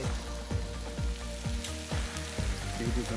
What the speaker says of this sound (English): And then we're going to sear it one more time on the other side.